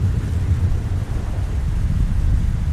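Rain and thunder in an animated birds' story, a dense low rumble and steady patter that rolls on without a break, loud and close throughout with no voices.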